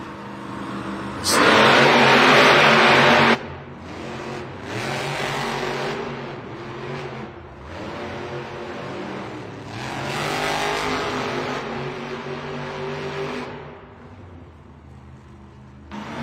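Monster trucks rev and race around an indoor arena during a Monster Jam racing event, a loud engine roar bursting up early, then rising and falling engine noise echoing through the venue.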